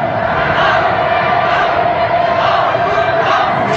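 Large welcoming crowds along a parade route cheer and shout in a sustained, dense roar with a steady chant-like tone running through it, loud and continuous from start to finish.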